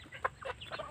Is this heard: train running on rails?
no